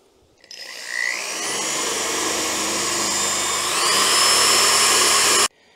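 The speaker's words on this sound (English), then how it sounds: "I'm going to take a wire wheel basically and clean out here." A wire wheel on a power tool spins up with a rising whine, then grinds steadily and harshly against rusted metal around a car's fuel pump stud for several seconds before cutting off abruptly.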